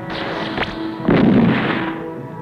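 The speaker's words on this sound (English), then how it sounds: "The electro bombs." Electro bombs explode in a 1979 Italian science-fiction space film: two sharp blasts, the second louder with a booming rumbling tail, fill the short stretch with no talk.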